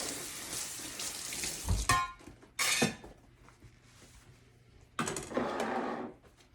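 Running tap water splashes over canned chickpeas, tofu and tempeh in a sink, coming in loud bursts with quieter pauses between as the food is rinsed, close by and without talk.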